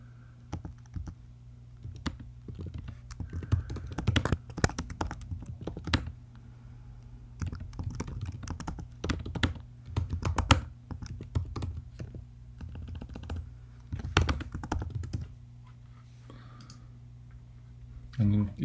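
Keys clatter in bursts on a computer keyboard while notes are typed onto a Google Jamboard, steady clicking runs over a low hum with short pauses, close and moderately quiet, with no voice heard.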